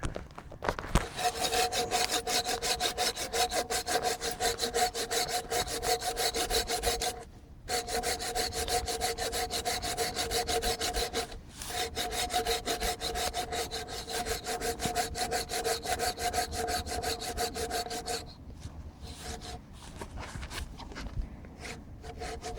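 An Opinel No.18 folding saw cuts through a wooden log with steady, rasping back-and-forth strokes, interrupted by a couple of brief pauses, close to the microphone.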